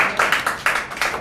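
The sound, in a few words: audience clapping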